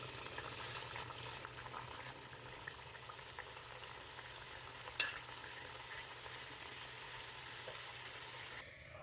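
Diamond-cut maida snacks fry in hot oil, giving a soft, continuous bubbling sizzle with a single brief clink midway.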